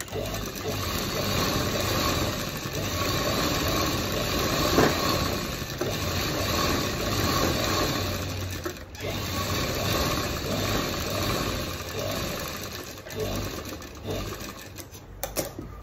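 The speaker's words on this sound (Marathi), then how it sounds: "आता याच्या वर एक शिलाई आणखी मारून घ्यायची" A sewing machine runs continuously, stitching along a blouse, with a steady rapid mechanical whir close by and a short pause near the middle before it resumes.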